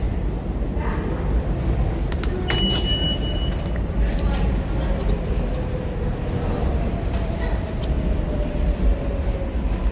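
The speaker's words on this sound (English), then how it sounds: "an express 7 train to Flushing Main Street" An express 7 subway train near Flushing in Queens, a loud continuous rumbling roar with brake squeals and a long descending whine, heard up close at the station under background chatter.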